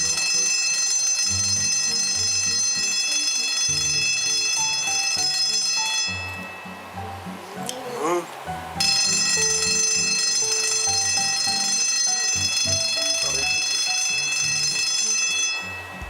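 Wake-up alarm bell ringing inside the Pinoy Big Brother house, a loud, continuous metallic ringing with a repeating tune underneath, briefly dropping out for a couple of seconds midway before resuming.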